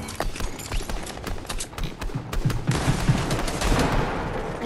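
Gunfire rattles in a Fortnite match: dense rapid bursts of shots crackle and echo, loud and close, growing into continuous heavy firing toward the end.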